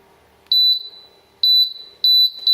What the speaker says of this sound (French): On peut voir que ce fameux buzzer sonne là.